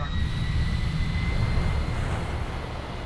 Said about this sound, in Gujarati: Checklist starting engine number 1.